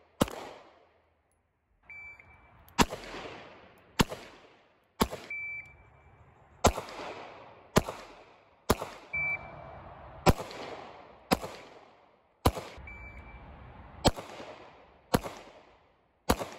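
Gunshots from revolvers and small pistols on a shooting range during an FBI pistol qualification, a dozen or so loud sharp reports spaced about a second apart, each ringing out, with beeps from a shot timer between strings.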